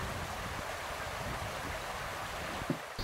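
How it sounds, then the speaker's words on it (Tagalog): A creek with a strong current rushes steadily, a constant broad watery hiss and gurgle close by, with a brief knock near the end. "malakas yung agos na dumadaloy sa sapang ito"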